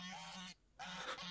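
Geese on an apple farm give out a quick run of honks, two nasal calls split by a brief pause, faint and some distance off.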